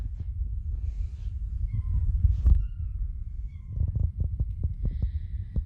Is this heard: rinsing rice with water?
no